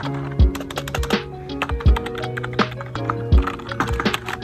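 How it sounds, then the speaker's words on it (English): Keys on a compact 60% computer keyboard clack in quick, uneven typing, close and distinct with heavier thocks for some strokes. "That's the keyboard."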